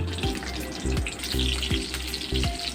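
Onion sautéing in a pan for chicken afritada gives a close, steady sizzle, broken by regular thumping stirs or taps about once a second.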